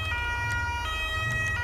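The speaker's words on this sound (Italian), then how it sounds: "Partiamo, accendiamo le sirene che ho impostato italiane." An Italian police siren sounds from a Seat Leon patrol car in the GTA 5 video game, a loud, steady wailing tone that holds through the whole stretch over a low engine rumble.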